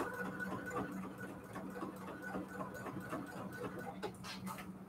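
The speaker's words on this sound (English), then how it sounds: "I'm just sewing in this line here" A sewing machine runs steadily, stitching a line across a mat, with a continuous mechanical whir and fine repetitive clatter throughout.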